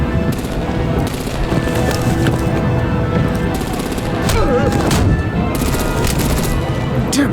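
Sustained gunfire and artillery barrage in the Batman: The Enemy Within video game, a dense, loud battle din running throughout with faint voices mixed in.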